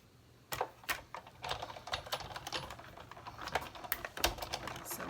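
A die-cutting and embossing machine feeding silver paper through a plate, producing a series of sharp clicks and rattling mechanical ticks at an irregular pace, close and fairly quiet.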